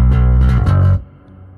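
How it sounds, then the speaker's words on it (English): A hall reverb effect from an effects unit rings out as a dense, sustained tone with a few brief louder swells, then cuts off and leaves a faint decaying wash. "Yeah, this is hall reverb."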